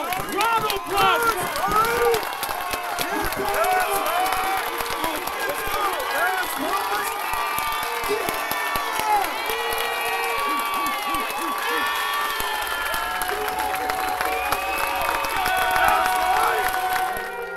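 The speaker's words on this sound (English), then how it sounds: "So I need all of y'all to get back up and give a warm applause." A church congregation applauding and cheering together, a dense wash of clapping and whoops from a crowd, with many voices calling and talking through it.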